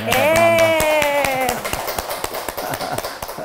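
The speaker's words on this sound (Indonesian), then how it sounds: "Tepuk tangan dulu." Crowd applause of many hands clapping in a dense, steady patter at a community outreach event in Batu, East Java, following a brief loud voice at the start.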